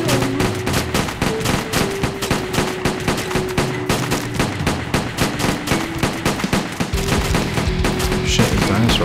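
Rapid bursts of Uzi fire in a video game, dense crackling shots layered over a constant background music bed, loud and relentless.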